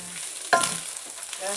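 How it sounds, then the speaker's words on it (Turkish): Minced meat with tomato paste sizzling and being stirred in a pan in a home kitchen, a brief soft frying hiss with a small scrape of the spoon, close by. "Evet kıymama salça da koyuyorum."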